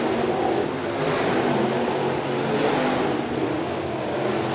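SportMod and modified race cars battling for position at Shelby County Speedway, a continuous loud roar of engines rising and falling as the pack sweeps past, with no voices.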